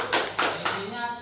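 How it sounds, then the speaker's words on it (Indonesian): Children clap their hands three times in a slow, spaced rhythm, with a voice trailing after the last clap. "Tepuk tangan dulu dong."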